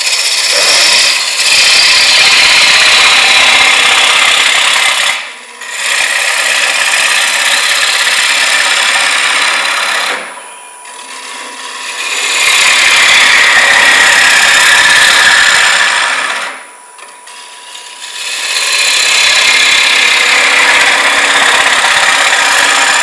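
Wood lathe turning a green wood bowl, loud continuous cutting hiss and whine in three long passes, with brief pauses as the gouge lifts away.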